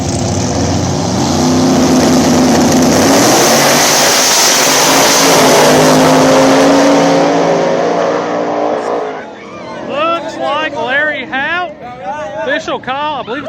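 Small-tire drag race cars roar down an Ohio back-of-the-track strip, a loud sustained engine howl for about nine seconds that drops away into a commentator talking excitedly.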